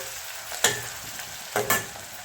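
Onion frying in hot oil for a home-style chicken rassa, with a steady sizzle broken by two short, louder scraping stirs close by.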